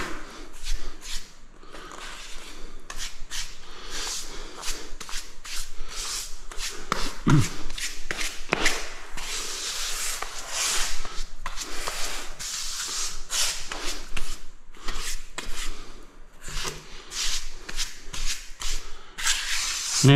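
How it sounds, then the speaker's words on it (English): Steady scratchy scraping of leftover tile adhesive off a tiled floor before grouting, repeated rasping strokes throughout at close range, no talking. "You just scrape it out as you come to it."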